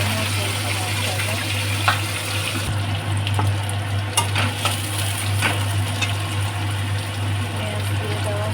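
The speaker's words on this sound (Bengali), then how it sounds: "মাছের কাটাগুলো ভাজা হচ্ছে" Fish bones, from bhetki fish, sizzle and crackle in hot oil in a pan, a steady loud frying hiss with a constant low hum underneath and occasional clinks of a utensil.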